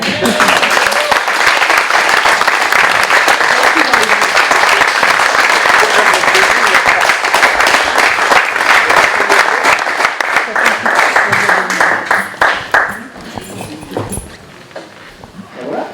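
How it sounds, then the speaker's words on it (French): An audience at the installation of a new municipal council in Missiriac, France, breaks into loud, sustained applause for about thirteen seconds, then it thins out and fades. "vous pouvez vraiment vous lâcher et applaudir"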